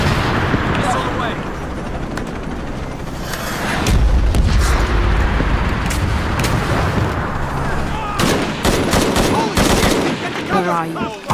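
Enemy gunfire in Shadow of the Tomb Raider at the Porvenir Oil Fields: loud sustained bursts of automatic fire and booms, dense and continuous, with a brief music-like tone near the end.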